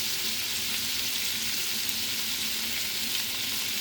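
Shrimp fry in a pan with an even, continuous sizzle that stays loud and close from start to finish, with no talk.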